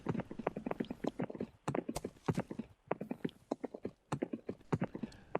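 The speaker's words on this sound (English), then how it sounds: "It's very relaxing here as I ride my horse on leg 1" Horse hooves clip-clop in a brisk, steady rhythm as a horse is ridden in Second Life along a Great Wall route. The clear, close hoofbeats are heard alone.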